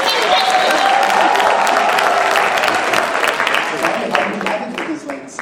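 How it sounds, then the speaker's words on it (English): A dense, loud round of applause from an audience at a Toastmasters Jamboree in Bangalore, greeting the keynote speaker. It runs steadily throughout and tapers slightly toward the end. "Could we have a thunderous round of applause for the distinguished Toastmaster, Aditya Maheswaran"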